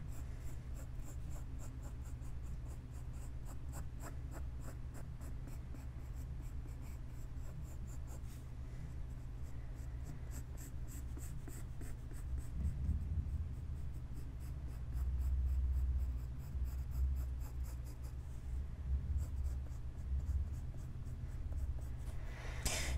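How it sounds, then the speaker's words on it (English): A pencil on paper erases and then redraws the head of a bison, producing steady close scratching and rubbing strokes that run on continuously with no talking. "We're just going to erase that and redraw the head."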